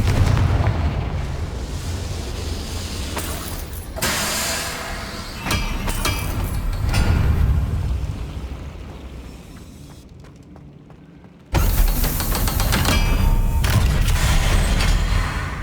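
In Hogwarts Legacy, the Confringo spell sets off fiery explosions: heavy booms and rumbling blasts arrive in bursts, with one sharp, loud detonation near the end.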